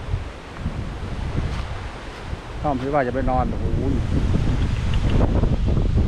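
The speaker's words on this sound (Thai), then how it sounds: "มาแรงมากครับลมนะครับ" Strong wind blowing outdoors at night in a forest campsite, a constant loud roar and microphone buffeting that builds steadily, with someone briefly talking partway through.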